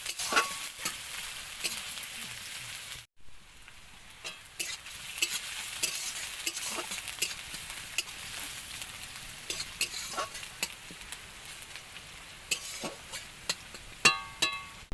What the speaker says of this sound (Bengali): তেল গরম হয়ে গেলে দিয়ে দিচ্ছি পেঁয়াজ একটু পাঁচ ফোড়ন দিয়ে পেঁয়াজগুলো ভালো করে ভেজে নেব